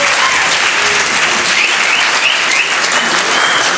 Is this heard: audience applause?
yes